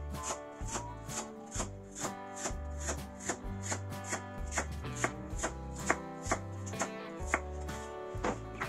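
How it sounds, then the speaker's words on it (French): A knife cuts a section of lotus root into thin slices, giving quick, regular, close chops in a steady rhythm under background music. "coupez une section de racines de lotus en fines tranches"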